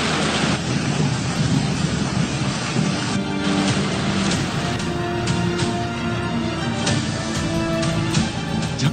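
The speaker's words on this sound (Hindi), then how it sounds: "झक्कड़ चले, बादल गरजे और यकायक जालाबारी शुरू हो गई।" Heavy hail and rain pelt down over Islamabad in a thunderstorm, a dense, loud, continuous roar of impacts with gusting wind and occasional sharper clattering hits throughout.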